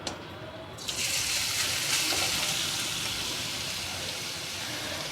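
Grated carrot hits hot ghee in a kadai with a sudden loud sizzle that settles into a steady, hissing fry, close and alone without talk.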